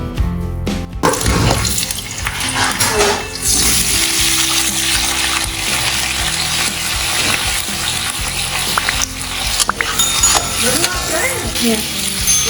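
Medium onions browning in hot cooking oil with a pinch of salt, giving a loud, continuous frying sizzle with some stirring and watery crackle throughout.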